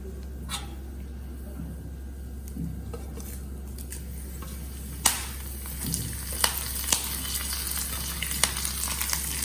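A tempering of hing, curry leaves and green chillies sizzling in oil for aloo raita, a soft steady fry under a low hum, with a few sharp spoon clinks against the pan while being stirred.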